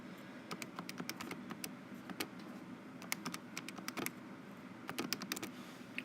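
Quick run of crisp plastic key taps as an expression is entered on a calculator, clustered in short bursts with brief pauses, fairly close and clear over a faint room hum.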